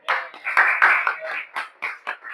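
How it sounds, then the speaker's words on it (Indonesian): Clapping hands in a classroom: a burst of quick, close claps from a group of students, uneven and overlapping, fading into a few scattered claps. "Ayo kita beri tepuk tangan."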